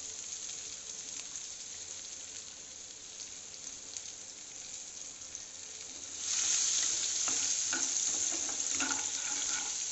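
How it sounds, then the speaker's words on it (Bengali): Chopped onion frying in hot oil in a pan gives a steady, close sizzle that suddenly grows louder and harsher partway through and stays strong to the end. "এবার আমি পেঁয়াজটাকে একটু ভেজে নেব।"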